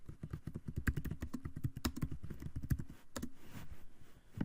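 Typing on a computer keyboard during an office software exercise, with rapid irregular clicks and clatter of keys close up, alone without talk.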